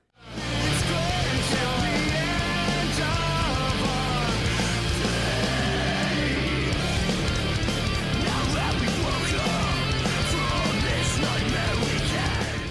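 Loud, dense rock band recording with distorted guitars, pounding drums and bass, playing continuously from start to finish.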